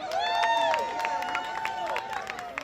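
Audience applause at an outdoor evening reading event, steady clapping and some cheering from a modest crowd, with someone speaking loudly over the noise throughout.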